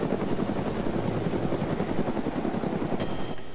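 An ArmA2 helicopter in flight produces a steady, loud rotor chop with a rapid rhythmic thumping over a constant engine whine, continuous throughout with no talk.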